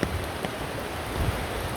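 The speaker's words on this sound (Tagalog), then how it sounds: "malakas ang ulan" Steady, dense rain pours down in a constant hiss with occasional heavier spatters, with no voices.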